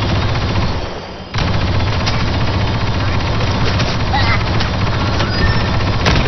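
Sentry guns in the video game Star Wars Battlefront II fire in dense, continuous automatic bursts. The loud, close gunfire runs almost the whole way through, with only a brief dip near the start.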